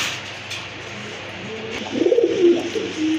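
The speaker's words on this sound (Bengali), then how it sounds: "আরেক জোড়া কবুতর দেখার মতো এক জোড়া বিগ সাইজের কোয়ালিটি সম্পন্ন ইন্ডিয়ান বোম্বাই কবুতর" A pair of big Indian Bombay pigeons coo close by in a few low, throaty bursts, rising in the second half over a faint steady background hiss.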